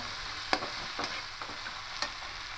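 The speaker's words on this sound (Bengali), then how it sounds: "এবার খুব ভালো করে একটু কষিয়ে নেব।" Spices with salt are stir-fried in a pan, with a soft continuous sizzle broken by a few sharp scrapes and taps from the stirring spoon, close and without talk.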